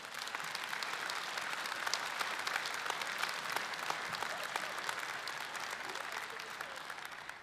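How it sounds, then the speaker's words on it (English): A church security conference audience applauds a speaker steadily and at moderate loudness for several seconds, dense clapping with no voices over it. "Clap with me, applaud with me,"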